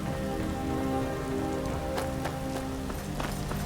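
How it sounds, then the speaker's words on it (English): Steady rain falls outside in the video game Skyrim, a constant soft patter on surfaces with scattered louder drops, fairly quiet and with no voices over it. "Still raining outside."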